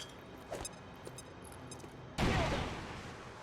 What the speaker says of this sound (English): So I'm just gonna use this grenade, see how many I kill.